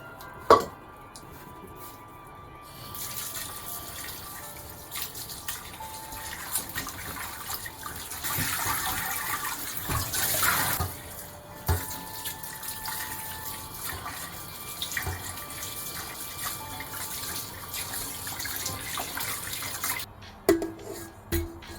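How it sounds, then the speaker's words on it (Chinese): Warm tap water runs continuously into a sink as pork ribs are rinsed, a steady gushing stream with occasional clinks and handling sounds, ending with the tap shut off. "用温水冲洗干净。"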